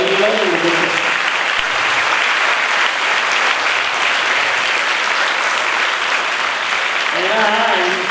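A hall crowd at a centenary celebration for the Gandhi Peace Foundation in Madras claps loudly and continuously for several seconds, with a speaking voice briefly heard at the start and again near the end.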